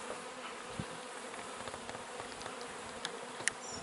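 Honeybees drone steadily around an open hive frame of queen cells during queen rearing, a dense, even buzz close by, punctuated by a few light clicks and knocks from handling equipment.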